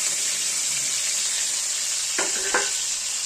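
Raisins and cashews fry with garam masala in hot ghee, a bright, steady hiss close by that holds throughout, with a brief clink partway through and no talking.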